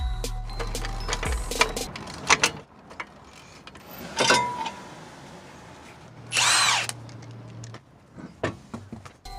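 Power tool bursts, short whirring and ratcheting runs, spun up in several separate pulses while the front driver's side wheel comes off a jacked-up Jeep; close and fairly loud, with workshop clatter between the bursts.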